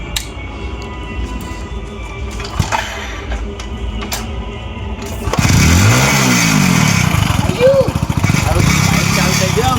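A motorcycle engine starts after several failed attempts and settles into a loud, steady idle with occasional revving. It sits close by for the last few seconds, and people talk before and over it.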